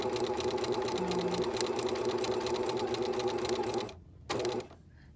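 A sewing machine with its buttonhole dial set to 2 stitches a guide line in a steady, even whir, then stops abruptly, gives one brief final burst and falls quiet.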